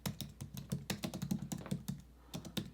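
Rapid, uneven typing on a computer keyboard, close and fairly quiet, with clusters of key clicks broken by short pauses and no voices over it.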